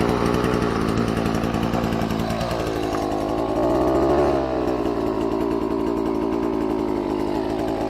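A small motorized scythe engine running steadily at close range, a buzzing two-stroke drone that dips and rises briefly in pitch midway.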